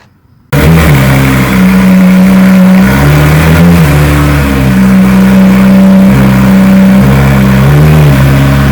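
A 2018 BMW S1000RR sport motorcycle engine tuned to 210 hp, bursting in loud and close after a brief silence, then revving hard in sustained high-pitched pulls that rise and dip.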